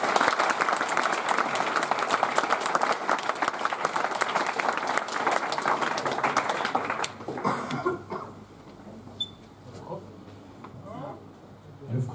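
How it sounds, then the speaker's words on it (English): Audience applause after a meetup talk on microservices in Munich, dense steady clapping from a crowd for about seven seconds, then thinning into scattered claps and room noise. "You already applauded to that"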